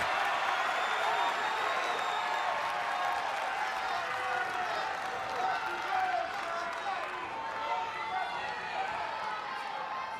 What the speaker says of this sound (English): As the crowd comes to life.